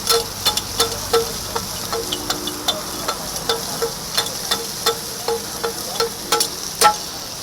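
Prawn fry sizzles in a pan with onion at a small roadside fish-fry stall, a steady hiss broken by repeated sharp taps of a ladle against the pan, close and fairly loud, with no talk.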